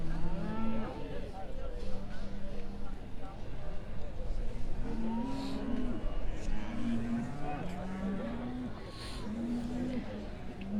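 Beef Shorthorn cattle at the Royal Highland Show low repeatedly, several drawn-out moos rising over a busy, noisy showground with steady background rumble and talk.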